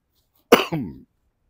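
A single short cough, close and fairly loud, followed by a brief throaty rasp, then silence.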